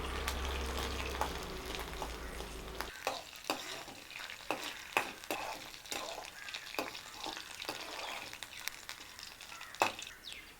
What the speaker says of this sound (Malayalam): മുളക് ഇട്ട് വറുക്കാം.